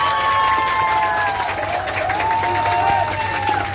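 Loud applause and cheering from a crowd aboard a yacht on a tour to Avşa island, greeting the last contestant, with whoops and shouting voices mixed into the dense clapping.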